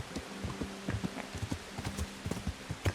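Horse hooves clip-clop in an irregular rhythm of close, moderately loud steps across the forest in Kingdom Come: Deliverance, heard alone with no talking.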